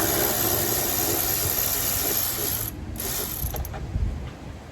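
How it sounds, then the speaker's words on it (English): A ratchet fitted with a 10mm socket clicks steadily as it backs out inner fender bolts on a Jeep JL, a close, continuous mechanical chatter with a brief pause partway through and no talking. "take our ratchet with a 10mm socket on the end and we're gonna remove the 3 inner bolts that are inside of the fender"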